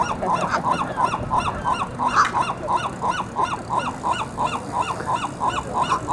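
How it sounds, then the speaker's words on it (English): A crowd of seagulls squawks over a stolen pizza, a dense run of repeated harsh calls close by, steady and overlapping throughout. "How come they're all squawking? Because it wants pizza."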